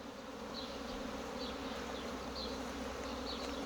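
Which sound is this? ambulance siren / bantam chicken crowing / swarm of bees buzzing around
swarm of bees buzzing around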